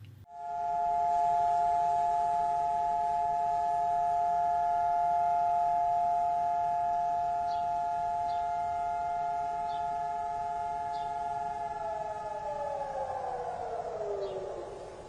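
A long, steady Holocaust Remembrance Day siren in Israel holds a sustained wailing tone for many seconds, then slowly falls away near the end. No talking.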